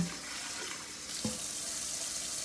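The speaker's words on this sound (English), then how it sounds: "I'm going to put a little bit of water in it." Tap water pours steadily into a cooking pot holding Italian sausage with broccoli and mushrooms, a continuous close hiss with no voices.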